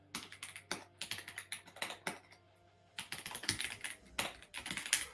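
Typing on a custom-built mechanical keyboard made of Lego, close and crisp, with quick bursts of rapid clacking keystrokes separated by short pauses.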